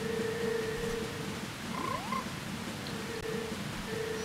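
Frog croaks from the Don Gero frog orchestra in Zelda: Majora's Mask, a couple of short rising warbled calls standing out faintly over a steady droning game soundscape, with no talking.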